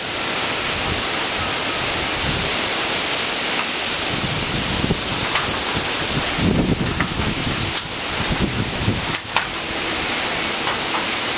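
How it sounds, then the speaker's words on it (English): Wind from Hurricane Gustav in 2008 gusts through trees in Youngsville, Louisiana, in a continuous rushing roar that swells and eases, with no voices. "Here comes a little gust right here."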